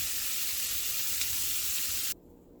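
Asparagus spears laid flat and sizzling in a pan, a dense, steady close hiss that holds evenly for about two seconds and then cuts off abruptly, leaving only a faint low hum with no talking.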